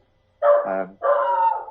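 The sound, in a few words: dog barking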